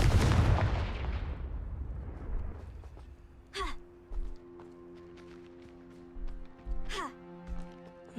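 Confringo explosive spell cast in the video game Hogwarts Legacy: a loud burst that decays into a rumbling roar, followed by softer magical whooshes and tonal swells.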